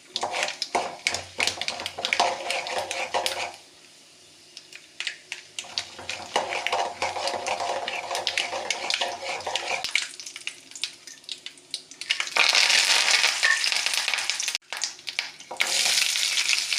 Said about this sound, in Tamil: ஒரு வாணலியை அடுப்பில் வைத்து 2 ஸ்பூன் தேங்காய் எண்ணெய் விட்டு, கடுகு, உளுத்தம்பருப்பு போட்டு தாளித்து